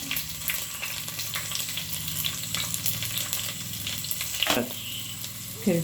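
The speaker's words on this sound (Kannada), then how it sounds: "ಈಗ ಎಣ್ಣೆ ಬಿಸಿಯಾಗಿದೆ ಸಾಸಿವೆ ಹಾಕಿದೆ ಈರುಳ್ಳಿ ಹಾಕ್ತಾಯಿದ್ದೇನೆ" Onions sizzling and frying in hot oil with mustard seeds, a steady dense crackle throughout with faint stirring, a brief clatter near the end, for a fish curry.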